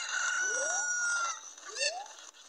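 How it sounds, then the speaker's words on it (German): A cartoonish chicken from Zelda: Ocarina of Time in Kakariko village squawks twice, each a rising clucking call over a bright steady game tone, close and clear. "Komm jetzt her, Huhn."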